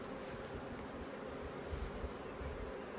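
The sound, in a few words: honey bees buzzing at a hive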